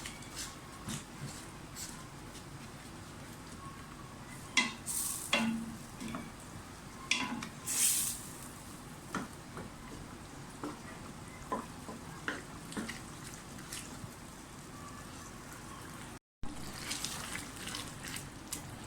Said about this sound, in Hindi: अच्छी तरह से भुनाई कर लें। सारे मसालों को अच्छी तरह से गल जाना चाहिए।